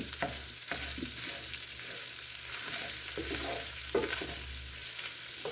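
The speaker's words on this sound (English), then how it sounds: "You want to keep it cooking until you get all the drippings out of the sausage." Crumbled sausage fries in a pan for sawmill gravy, with a fairly quiet, continuous sizzle broken by several scraping stirs of a utensil and no voices.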